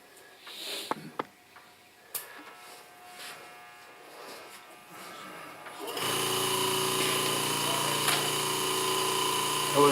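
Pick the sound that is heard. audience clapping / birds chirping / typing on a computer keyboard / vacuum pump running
vacuum pump running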